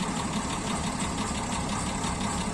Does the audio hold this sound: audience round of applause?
no